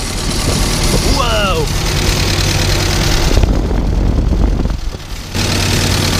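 An old tractor engine runs and idles with a steady low rumble close by, while voices talk over it and a short whistle-like sound rises briefly near the start.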